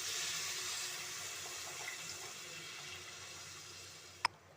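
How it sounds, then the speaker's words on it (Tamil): Tamarind extract pours steadily into a cooking pot for a black chickpea tamarind curry, a soft continuous watery rush fading slightly, ending with a sharp single clink. "புளி கரைசல் சேர்த்துக்கிறேன்."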